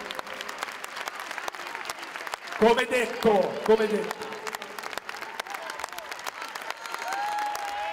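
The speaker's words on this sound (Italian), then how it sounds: "bravi, un bel applauso." Crowd applause fills a basketball team presentation in a Forlì arena, steady clapping under an announcer's amplified voice that talks throughout, swelling briefly louder midway.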